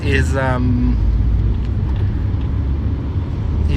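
Steady low engine rumble and road noise inside a moving car, a constant droning hum, with a brief voice speaking at the start.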